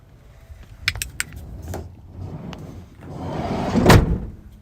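Sharp clicks and a jangle of keys, then a rising rustle that ends in a solid thunk as car doors lock and shut, close by and with no talking.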